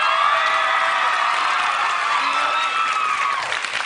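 A large audience at a televised singing competition cheers and applauds loudly after a performance, a dense sustained roar of clapping and shouting that swells and then starts to fade.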